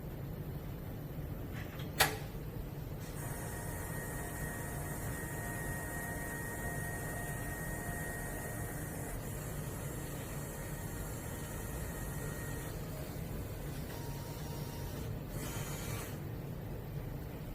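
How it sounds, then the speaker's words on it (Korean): A 4-axis CNC engraving machine powers up after its emergency button is released, giving a steady mechanical whir with a sharp click near the start and a brief change in tone toward the end; no one speaks. "지금부터는 CNC 조각기를 부팅해 보도록 합니다."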